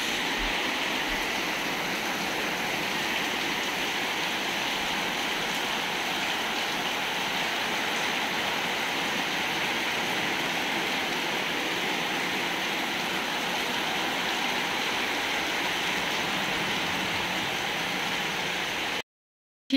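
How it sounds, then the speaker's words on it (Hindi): Steady, dense hiss of heavy morning rain in Himachal Pradesh, pouring continuously, a broad wash of sound with no voices, cutting off abruptly at the very end. "सुबह सुबह उठते इतनी ज़्यादा बारिश हो रही है ना।"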